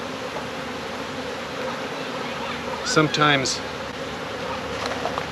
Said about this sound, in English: they're buzzing a little louder as I do this because I did not smoke them today.